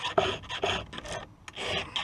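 A hand file rasps across the teeth of a chainsaw chain in quick, close, rhythmic strokes, about six scrapes in two seconds, with no talk.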